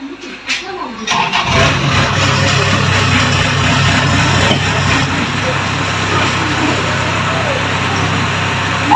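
A DC-70 combine harvester engine starts up and then runs steadily at a loud, constant drone during testing, with a brief sputter at the start before it settles into a continuous mechanical roar.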